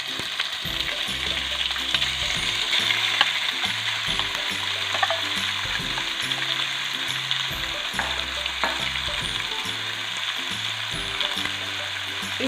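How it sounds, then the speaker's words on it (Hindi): Marinated chicken frying with onions in a pan, a steady broadband sizzle running throughout with scattered clicks and scraping stirs, close and fairly loud, no talking. "अब वो मैं इसमें डाल कर उसको भून लूँगी अच्छी तरह से।"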